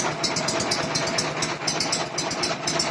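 A Prykarpatets mini tractor engine idling while it warms up, a close, steady, rapid chugging throb with regular ticking pulses and no voices.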